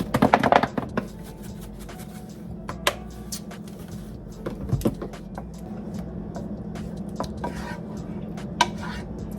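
Parsley flakes being stirred into melting cheese sauce in a pan, with a spoon clinking and scraping against the metal in scattered sharp taps over a low steady hum, fairly quiet, no voices.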